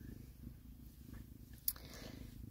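A female house cat purrs steadily while curled in someone's lap, a soft, continuous low rumble close by with one brief sharp click partway through.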